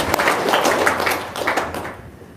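An audience claps briefly during a testimonial talk, a burst of scattered hand claps that thins out and fades after about two seconds.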